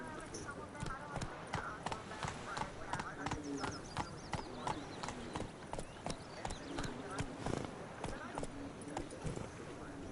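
Hooves of a galloping horse in a video game beat in a steady rapid clip-clop, fairly close, running under ongoing conversation.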